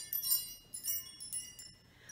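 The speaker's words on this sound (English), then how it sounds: "it doesn't have a ringing sound like this metal wind chime does" Thin metallic wind chimes tinkle and ring in a few scattered, overlapping strikes, light and fairly quiet, with bright lingering tones.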